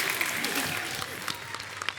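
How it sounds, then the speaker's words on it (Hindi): A television comedy show studio audience claps loudly and steadily, dense sustained applause filling the whole moment. "जोरदार तालियां हो जाए।"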